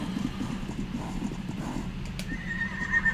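A unicorn mount in a Viking video game bucks and whinnies, with rhythmic hoof clops and snorting bursts up close, ending in a higher-pitched neigh.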